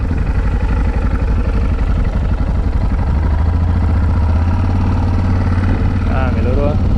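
A Yamaha Ténéré 660 motorcycle engine runs steadily nearby with mechanical clatter from gear shifting, while people talk over the engine noise.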